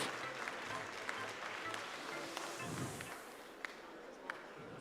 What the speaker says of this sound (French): Vous pouvez déjà applaudir les 4 éleveurs, les 4 élevages qui présentent 4 jeunes vaches ici à Paris.